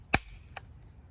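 Mossberg Model 183D-A shotgun bolt being worked: a sharp metallic clack followed about half a second later by a lighter click, close and alone in a quiet room.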